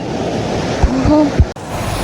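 River water flows in a constant broadband rush, close and loud. A short voice sound and a brief thump break through midway.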